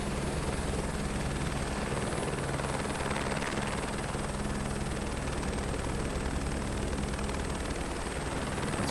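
A C-160 turboprop aircraft engine in Microsoft Flight Simulator 2024 gives a loud, constant droning roar with a steady pulsing thrum that fills the whole stretch, with no talking.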